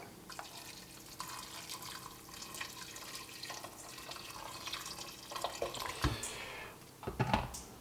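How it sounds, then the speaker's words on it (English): Boiling water runs and splashes steadily into a pot of vegetables for soup for several seconds, with a few louder clinks and gurgles near the end, no voices. "So a bit more boiling water."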